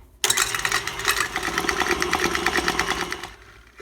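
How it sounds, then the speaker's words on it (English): An electric mixer beats softened butter in a bowl, a loud steady motor whir with a rapid rattling pulse that starts abruptly and runs for about three seconds before cutting off. "you're gonna pop this into your mixer, and it needs to be softened. You'll just beat it up until it's kind of whipped up"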